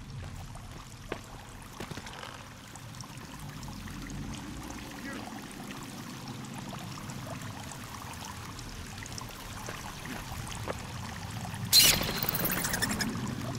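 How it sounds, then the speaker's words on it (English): Water flows through a cave in the video game Sons of the Forest, a faint steady stream trickling in the background, with a brief louder burst near the end. "Oh god, I hear water."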